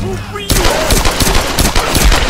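Rapid automatic gunfire erupts in the Tomb Raider video game, a loud, dense burst of shots following a brief quieter moment, with some voice mixed in.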